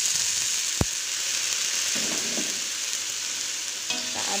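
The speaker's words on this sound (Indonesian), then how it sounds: "Lalu kita masukkan jamur enoki. Kita aduk-aduk lagi." Enoki mushrooms hiss loudly as they are stir-fried in a pan, the dense sizzle running throughout with a single sharp utensil knock and soft stirring scrapes.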